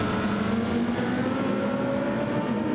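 Race cars at Fuji in Gran Turismo 7 give a continuous, fairly loud engine whine and drone, steady in pitch, like a car held at speed or passing close, with no voices.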